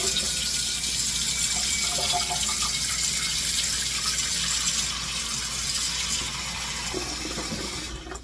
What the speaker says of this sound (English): I'm going to start here by filling my pot about halfway full with cold water